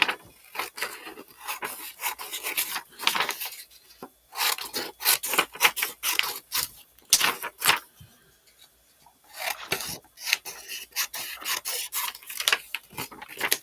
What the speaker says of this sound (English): Look, I can hear you cutting clearly.